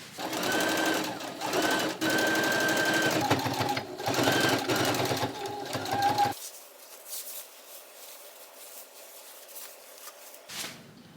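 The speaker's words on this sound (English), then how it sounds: "Now I'm going to sew this lining to the exterior with collar in the inside." A sewing machine stitches a garment lining to its exterior with the collar tucked inside, running in loud continuous bursts for about six seconds before stopping, with only faint handling noise and a brief sound after.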